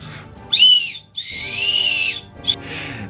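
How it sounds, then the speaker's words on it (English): A small metal spoon from a survival kit blown as a whistle gives three shrill, breathy toots, a short one, a longer sustained one and a final quick blast, close up with no talk. "I guess this spoon is also a whistle."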